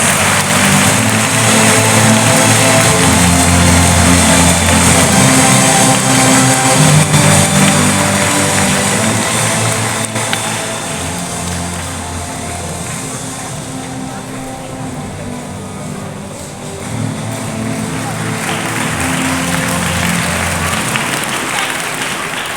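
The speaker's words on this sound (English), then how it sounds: "let us express our sincere thanks to them with a big round of applause" Sustained round of applause from an audience at a school investiture ceremony honoring the outgoing council, a dense steady clapping wash that softens midway and swells again near the end.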